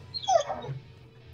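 A dog whimpers and yips briefly nearby, one short rising whine followed by a softer trailing whine over a quiet room hum during a livestream.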